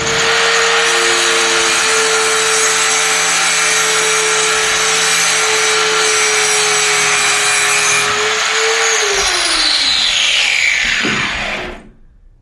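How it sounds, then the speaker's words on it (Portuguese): Metal workpiece being cleaned with a power tool ahead of submerged arc welding, a loud continuous grinding whir with a steady hum that holds for about eight seconds, then winds down with a falling pitch and stops near the end. "Isso que eu estou fazendo aqui, limpando essa peça, é um dos procedimentos que o operador vai ter de seguir"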